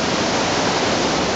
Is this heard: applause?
no